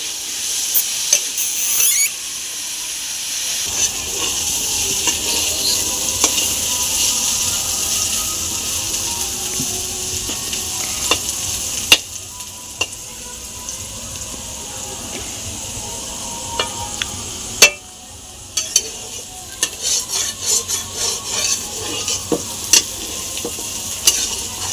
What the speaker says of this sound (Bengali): সামান্য পরিমাণ লবণ আর সামান্য পরিমাণ হলুদ দিয়ে আমি আলুটাকে সুন্দরভাবে ভেজে তুলে নেব।